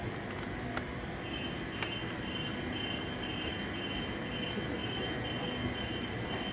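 Steady rumble of a train at Perth Railway Station platform with faint wheel squeal and occasional clanks, a continuous mechanical drone filling the space, no voices.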